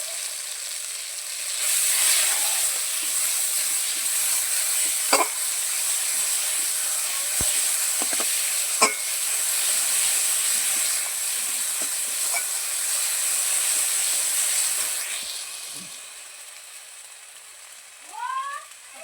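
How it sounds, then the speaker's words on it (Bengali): Onion, garlic and ginger paste with turmeric fries in oil in a wok, a continuous close sizzle with scattered stirring clicks and scrapes, fading near the end; no speech. "এটাকে একটু ভালো করে একটু কষিয়ে নেবো"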